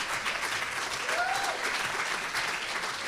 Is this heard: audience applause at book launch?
yes